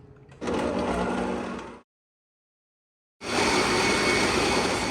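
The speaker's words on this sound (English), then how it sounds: "We're gonna beat it for about 3 to 5 minutes until it's stiff and glossy." An electric mixer beats egg whites and corn syrup into marshmallow frosting with a loud, steady motor whir. It runs alone, stops for about a second and a half, then starts again.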